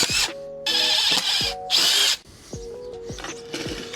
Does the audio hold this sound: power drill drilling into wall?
yes